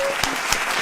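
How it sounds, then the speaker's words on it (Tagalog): A studio audience claps together in a dense, even burst of applause at a radio show featuring magicians and mentalists, close and continuous throughout. "Isa pang palakpak."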